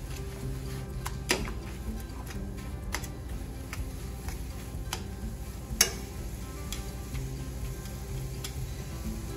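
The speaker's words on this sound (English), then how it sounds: "Then we're going to add 1/2 cup of heavy cream. Let that reduce, coat nicely." Half a cup of heavy cream reducing in a hot pan, giving a steady soft sizzle with scattered small ticks and pops throughout.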